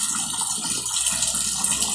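Water gushes into the drum of an Electrolux automatic washing machine with a faulty wash function, a loud, steady rushing fill with a faint hum underneath.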